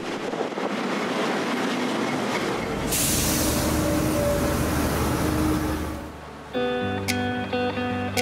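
A passenger train, a service from Christchurch, rolls into a station with a steady rumbling roar and faint wheel squeals, then slows and quiets as tonal horn-like chimes sound near the end.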